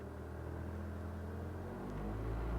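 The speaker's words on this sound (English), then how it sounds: "I'm just going to pick the revs up, see if we get any more bubbles come through." A Mitsubishi Lancer CE engine idling during a coolant flush, a steady low rumble that swells as the revs are raised near the end, with no talking.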